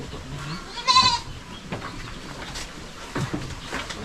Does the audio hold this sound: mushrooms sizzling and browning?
no